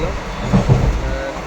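A passenger train heading toward Kalyan rumbles and clatters along the rails with a low, continuous roar and a few heavier thumps. Faint voices sit in the background.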